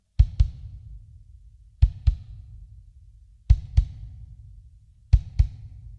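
A kick drum sounds in quick pairs from a pedal double stroke, two low thumps close together from a single leg motion, repeating four times at a steady pace.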